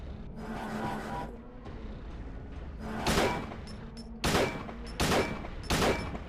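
Gunfire in the Silent Hill HD Collection game on PS3 as an enemy is shot: a muffled rumbling stretch, then four sharp, loud shots spaced about a second apart, close and alone.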